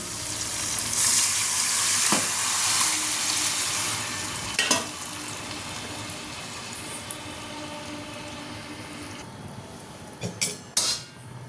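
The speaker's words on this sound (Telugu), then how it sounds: "చింతపండు పులుసు అయితే పోసుకుంటున్నానండి" Tamarind extract pours into a hot pan for fish curry (chepala pulusu), setting off a loud, steady sizzle and hiss that gradually settles, with a few utensil clanks near the end.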